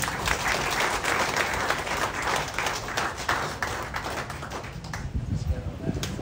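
An audience at a public event breaks into loud applause, dense clapping from many hands that swells and then thins slightly toward the end, with voices mixed in.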